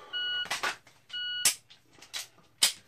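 A shot timer sounds two steady electronic beeps a second apart during dry-fire draw practice, each followed by sharp clicks and handling clatter from the pistol draw.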